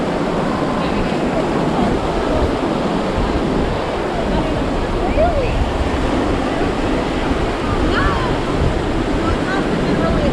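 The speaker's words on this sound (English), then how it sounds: "we're still surrounded by the beautiful sounds of the ocean" Ocean surf on the beach at Tybee Island, Georgia, gives a constant, fairly loud wash of breaking waves mixed with wind buffeting, with faint chatter from beachgoers in the background.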